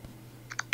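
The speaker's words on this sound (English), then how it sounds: "then I can type a message" A few quick keystrokes on a computer keyboard, three close clicks in rapid succession after a brief pause.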